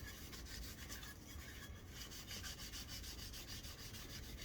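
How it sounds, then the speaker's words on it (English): Steady, continuous rubbing of 400 grit sandpaper along the edge of a hand-built hidden tang knife blade with an antler handle, a close, even, unbroken abrasive hiss throughout with no talking. "So now we'll come in with our 400 grit"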